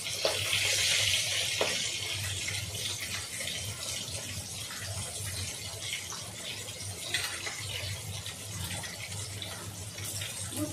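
Tap water runs steadily into a sink as potatoes are washed in a home kitchen, a close continuous hiss and splash with small clatters throughout, no talking.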